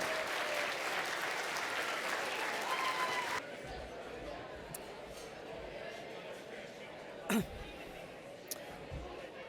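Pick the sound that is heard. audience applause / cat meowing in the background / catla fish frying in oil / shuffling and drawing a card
audience applause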